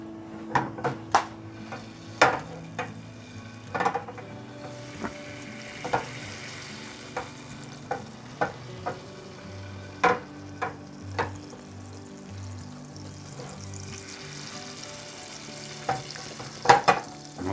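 Bread soaked in egg fries in melted butter in a pan, with a soft, steady sizzle punctuated by sharp clicks and taps of a utensil against the pan at irregular intervals.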